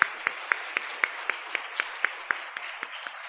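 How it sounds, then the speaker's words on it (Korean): Rhythmic, evenly spaced clapping fills a Korean union prayer meeting marking the 77th Liberation Day anniversary, about a dozen sharp unison claps in steady tempo with no talking. "하나님께 영광의 박수 올려드리겠습니다."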